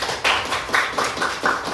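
A classroom group claps hands together in a short rhythmic pattern of about five sharp, evenly spaced bursts, close and clear with no talking.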